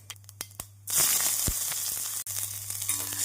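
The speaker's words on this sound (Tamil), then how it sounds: "கடுகு பொரியவும் நாம் வெங்காயம் பச்சை மிளகாய் கருவேப்பிலையை சேர்த்து விடலாம்" Onion, green chili and curry leaves hit hot oil with popping mustard seeds, starting with a few sharp crackles and then breaking into a loud, steady sizzle with scattered pops and a brief drop near the end.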